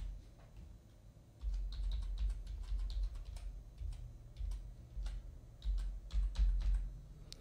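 Clicky keystrokes on a computer keyboard as a new password is entered, a steady run of close, fairly quiet taps with brief pauses and no voices.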